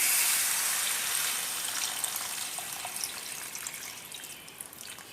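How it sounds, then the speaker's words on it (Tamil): Tamarind water pouring steadily into a pan, a hissing, bubbling splash that starts strong and gradually softens, with faint drips near the end. "நம்ம வந்து கரைச்சி வச்சுக்கிற புளி தண்ணியில் ஊற்றியாச்சு."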